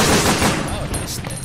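Shotgun blasts go off in the video game Resident Evil: Dead Aim, with a dense burst of loud, close gunfire sound and a quick decaying tail.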